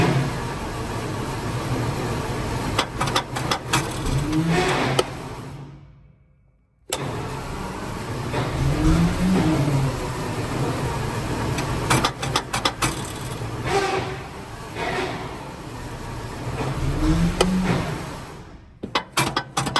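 Centurion ARV engine, being fault-found with the timing off, cranks, catches and runs close by, with repeated throttle bumps rising and falling and a brief cutout partway through.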